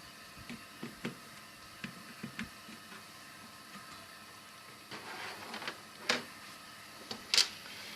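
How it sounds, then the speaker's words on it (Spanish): Small fixing screws are backed out of a device with a screwdriver, giving scattered faint clicks and scrapes, then louder metallic ticks and rattles near the end, close up without talking. "Sacamos los tornillos de fijación."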